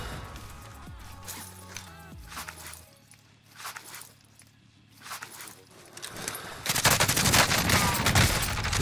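Gunfire in a video game comes in scattered bursts of shots amid footsteps and movement sounds, building to a loud sustained volley of rapid fire at the end.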